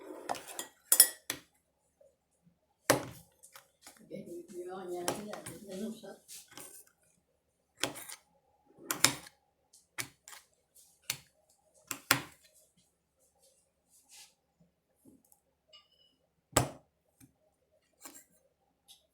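A knife slicing a pickle on a lid, with scattered sharp clicks and taps of the blade against the hard surface, sparse and close, with a brief stretch of softer rustling.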